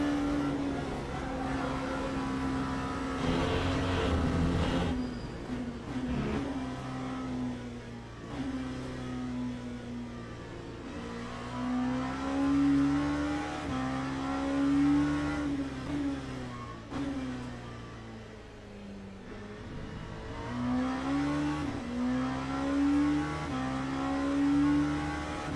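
An LMP2 prototype race car in a racing video game revs continuously, its engine note rising and falling through gear changes and corners in a steady, moderately loud whine over about half a minute.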